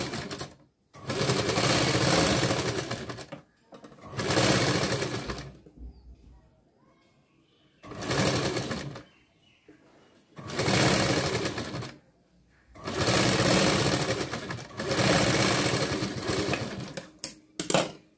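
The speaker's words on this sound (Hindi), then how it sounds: "तो इसके ऊपर मैं डबल सिलाई दे रही हूँ।" A sewing machine double-stitches the seams of a princess-cut blouse in bursts of rapid, steady running, five or six loud runs separated by short pauses.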